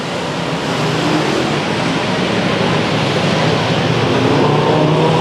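Race cars in a 100-lap speedway enduro, a dense continuous roar of many engines blending into a steady loud wash, with a commentator's voice faint beneath.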